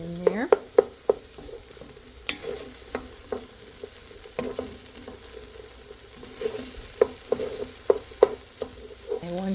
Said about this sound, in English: Stir that in. Cook that for about a minute so that I don't have raw flour.